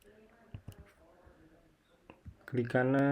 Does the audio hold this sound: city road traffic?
no